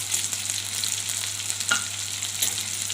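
Onions, green chillies and curry leaves frying in a pan for mango pulihora, a continuous sizzle with a few scraping stirs of a spoon against the pan, close up.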